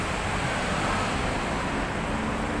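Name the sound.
roadside traffic noise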